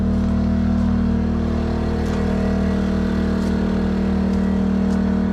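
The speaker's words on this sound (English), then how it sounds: "Let's get around this generator here so we can talk." Steady, loud engine drone of a running generator beside a 2008 Grand Junction 31TKS fifth wheel trailer, a constant low hum with strong tonal bands and no pauses.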